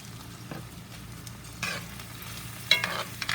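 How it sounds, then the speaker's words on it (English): Celery and onions saute in a hot cast iron skillet, a low steady sizzle with a few scraping stirs toward the end, close and fairly quiet. "I'm going to add the celery and the onions. And just saute until translucent."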